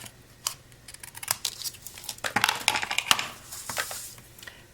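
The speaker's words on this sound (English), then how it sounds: "I'm going to grab my scissors and I'm going to cut that tag in half." Scissors cut a paper tag in half during card-making: a close series of crisp snips and paper crinkles, uneven in rhythm and growing busier midway.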